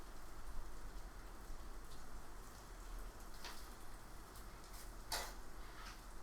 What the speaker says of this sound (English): Can you hear that rain? Isn't it beautiful?